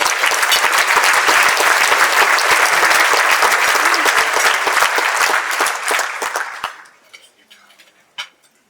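At a membership banquet, diners give guests a loud round of applause, dense clapping for about six seconds before it trails off into scattered claps and faint clinks.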